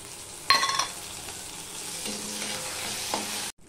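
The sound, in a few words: ginger and green chili frying in oil for tempering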